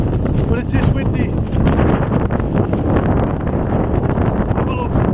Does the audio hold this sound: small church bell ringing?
no